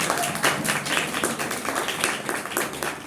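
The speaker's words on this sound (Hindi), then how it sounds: "तालियां।" Applause from an audience after a child finishes telling a story, dense, steady and fairly close for about three seconds.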